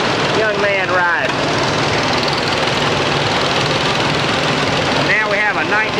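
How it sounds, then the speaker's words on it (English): A 1946 John Deere A tractor rolls past in an antique power tractor show parade, its steady engine drone continuous throughout while an announcer talks over it at the start and end. "Now we have Brad Myers on an A John Deere, a good-looking tractor with a trailer"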